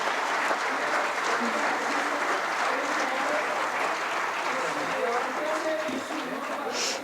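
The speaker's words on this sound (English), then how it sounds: "let's have an applause for everyone" Sustained applause from a conference audience at a Rackspace customer event in Mexico City; even, full clapping throughout, with faint voices underneath.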